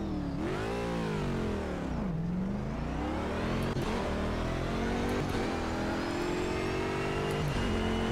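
A race car engine in the Project Cars video game drones loudly and continuously, its pitch sweeping up and down as it revs and shifts through paddle-shift gears on a track, with no voices.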